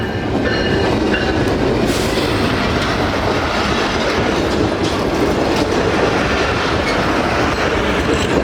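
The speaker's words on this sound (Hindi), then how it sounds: "ट्रेन जो है वो आ गई है जी 25 अब बाउद्दीन ज़िक्रिया एक्सप्रेस GU20 के साथ कराची और मुल्तान के दरमियान चलने वाली" The Bahauddin Zakariya Express, a Karachi–Multan passenger train, rolls into Landhi Junction station in Karachi with a loud, close, continuous rumble of wheels and carriages and steady clickety-clack over the rails.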